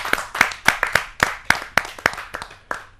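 Hand clapping at a Hindi kavi sammelan poetry gathering, about ten crisp, close claps in a steady, even rhythm that loosens and fades toward the end.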